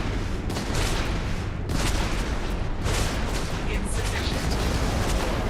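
Enemy gunfire in the Starfield game, a sustained, loud volley of repeated shots and bursts cracking one after another, with a voice speaking faintly underneath.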